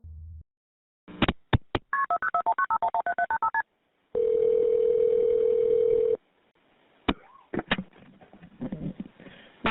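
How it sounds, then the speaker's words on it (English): Touch-tone telephone dialing an emergency number: a few separate keypad beeps, then a quick even run of about a dozen tones, followed by a steady two-second tone and faint handling noises, all close and clear with no talking. "she dialed 911 with her hands still tied"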